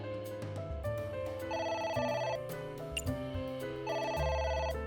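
A telephone rings in the video game AI: The Somnium Files, two loud electronic trilling bursts about two seconds apart over steady game music.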